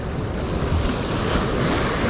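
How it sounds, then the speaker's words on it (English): Ocean surf rolls and breaks on a shoreline in a steady, loud wash of broadband noise, with wind buffeting the microphone throughout and no voices. "Watch out for the waves, though."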